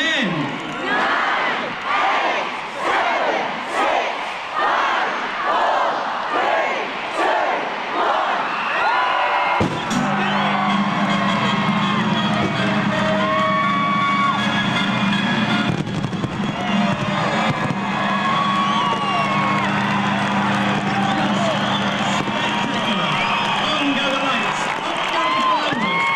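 A large crowd at a 1995 Bee Gees Christmas lights switch-on in Cardiff chants a rhythmic countdown, then erupts into sustained cheering, whooping and applause, loud and dense throughout.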